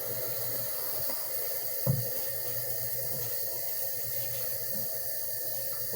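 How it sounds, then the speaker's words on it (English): Tap water runs steadily into a sink, filling it for washing dishes in a bathroom setup, a constant close hiss with one brief knock partway through. "That's why you put it under and then start filling it."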